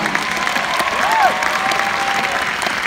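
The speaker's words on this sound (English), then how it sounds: "we all need to give a round of roaring applause" A crowd at the Hollywood world premiere of Halloween (2018) breaks into loud, continuous applause for Deborah Hill, with cheering and a brief whistle rising through the dense clapping.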